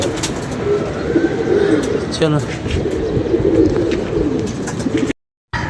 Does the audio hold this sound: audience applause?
no